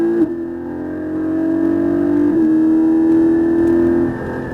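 A Porsche 718 Cayman GT4 engine at full throttle on the La Ferté Gaucher circuit, a loud, steady, rising drone that holds strong through a gear change before easing off at the end, with no voices.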